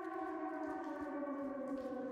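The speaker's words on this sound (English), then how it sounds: "Yeah, but now sirens are going." In the Silent Hill 2 Remake video game, a siren wails steadily with a layered, droning tone, sustained and moderately distant, with no voices over it.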